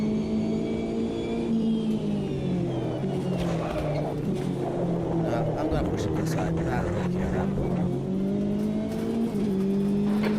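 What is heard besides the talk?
race car engines in Automobilista 2 racing video game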